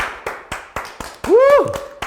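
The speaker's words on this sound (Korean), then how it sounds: "뜨거운 박수 모시겠습니다" An audience welcomes a guest at a bar-style talk show set with rhythmic hand clapping, about four claps per second. A host's voice then speaks loudly over the clapping.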